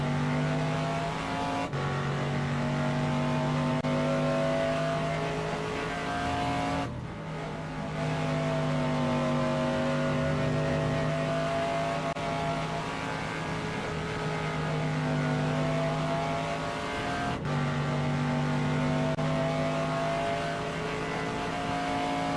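Race car engine on the Sachsenring circuit in a racing video game, a loud, steady droning whine that holds its pitch for long stretches and dips briefly a few times as the throttle eases, with no voices.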